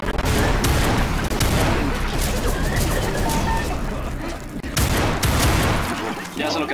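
Rapid gunfire from the video game Left 4 Dead 2, dense bursts of shots filling the mix almost continuously, loud and close, with a brief lull before another heavy volley.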